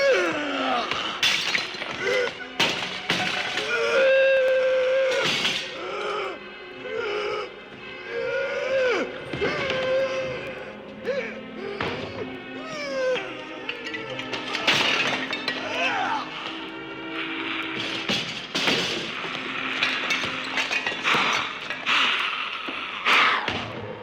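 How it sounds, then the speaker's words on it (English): A monster smashing up a laboratory in a Frankenstein Halloween record sound effect: loud, busy crashing, shattering glass and clanking metal run throughout, mixed with growls and dramatic background sound, with no clear talk. "And then angrily it began smashing the laboratory."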